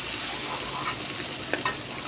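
Large fish pieces frying lightly in a pan, a steady close sizzle with a couple of brief pops and spatters near the end.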